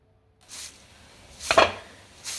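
Crispy fried onions, freshly fried and golden, are handled and crunched in a few brief dry rustles, with one louder crackling burst in the middle, close and fairly quiet, with no talking.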